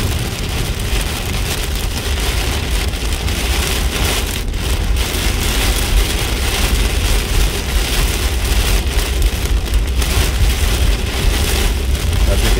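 Heavy driving rain pounds on a moving car on a Las Vegas street, a dense, steady roar of drops drumming the roof and glass throughout, with road noise underneath.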